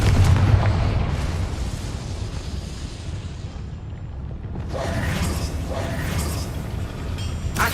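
A Confringo spell blast rumbles and bursts in Hogwarts Legacy, a loud, sustained explosive roar with crackling debris through the clip.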